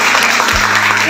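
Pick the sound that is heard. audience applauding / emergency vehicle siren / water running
audience applauding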